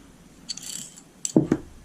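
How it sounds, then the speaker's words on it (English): Metal parts of a 1911 pistol clack and slide as the slide comes off the frame, a few short dry clicks and a scrape close up, no talking. "This will allow us to take the slide off from the frame"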